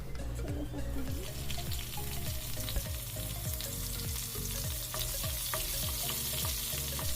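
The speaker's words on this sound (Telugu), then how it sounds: "ఆయిల్ వేడెక్కాక జీలకర్ర వేయాలి. జీలకర్ర చిట్పట్లు ఆడేటప్పుడు పచ్చిమిర్చి వేయాలి." Cumin seeds and green chillies frying in hot oil in a kadai, a loud constant sizzle with crackling pops, close up and without talk.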